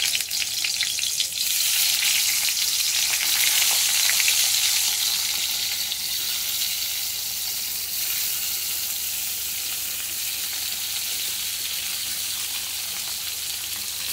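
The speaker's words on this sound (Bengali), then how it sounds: "বেগুনটা একটা একটা করে ছেড়ে দেবো।" Eggplant pieces fry in hot oil in a wok, giving a loud, steady hissing sizzle that continues evenly throughout, with no talking.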